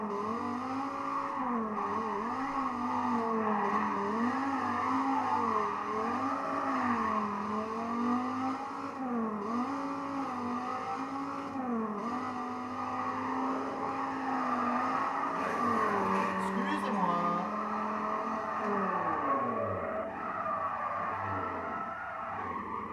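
A Dodge Viper engine roars in a racing video game, revving steadily with rising and falling pitch as it shifts, plus brief tyre squeals near the end.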